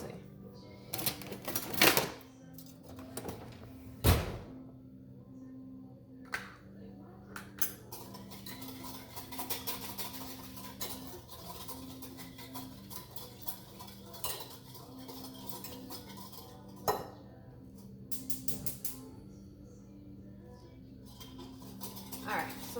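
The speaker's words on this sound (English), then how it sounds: "I have a spoon, so I'm stirring" A spoon stirs ingredients in a bowl for pulled BBQ jackfruit, with quiet repeated scraping and occasional sharp clinks of metal against the bowl, under a low steady hum and a voice talking.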